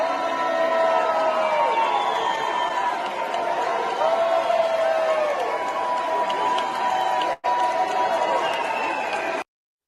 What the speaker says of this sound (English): There's booing. There's some of his supporters trying to applaud.